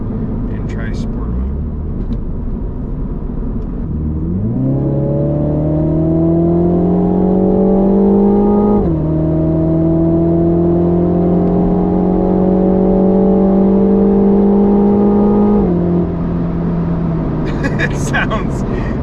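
A Mini Cooper fitted with a cheap aftermarket performance exhaust, set to sport mode, revs loudly in several steady rising pulls. Each rev holds for a few seconds and then steps up or drops back, with a faint voice near the end.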